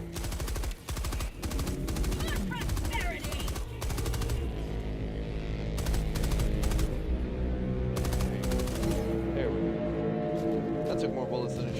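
Helldivers 2 gunfire rattles in fast automatic bursts, loud and close, with short pauses between volleys and a voice talking over parts of it.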